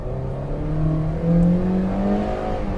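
A Toyota Innova Hycross petrol car accelerates hard from a standstill in a 0-100 run, its engine note climbing steadily in pitch with a brief gear-change dip, loud and close from inside the cabin.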